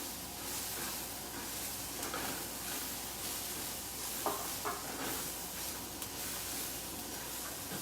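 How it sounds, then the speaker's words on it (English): Onions frying and browning in a pan, a steady soft sizzle with light stirring scrapes and a few small pops, fairly quiet and continuous, with no talking. "look at how the onions are browning, and we are going to make them even more dark"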